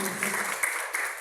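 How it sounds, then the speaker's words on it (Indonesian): Church congregation applause, a dense patter of many hands clapping at moderate level, brief and steady. "Tepuk tangan buat yang hadir."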